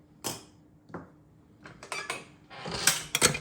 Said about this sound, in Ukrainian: Тепер нам це все треба просто перемішати